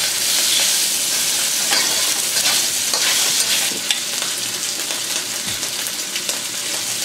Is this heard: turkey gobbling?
no